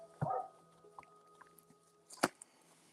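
A dog gives a brief whimper and yelp near the start, then another sharp short sound a couple of seconds later, fairly close in a quiet indoor room with no talk.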